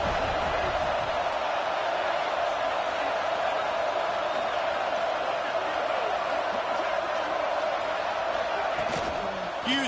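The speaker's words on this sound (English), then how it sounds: "This crowd bringing an ear-splitting welcome to their visitors." A football stadium crowd at a Gators game roars continuously and loudly, a dense wash of cheering with a commentator's voice running over it.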